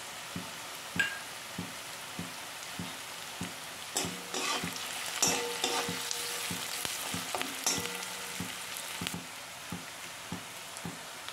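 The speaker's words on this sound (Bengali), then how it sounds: "এবার দিয়ে দেব রসুন কুচি।" Chopped garlic and onions sizzle together in a pan, a steady crackle punctuated by frequent sharp spatula clicks and scraping stirs, busiest in the middle.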